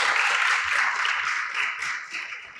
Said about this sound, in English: encourage them with applause as they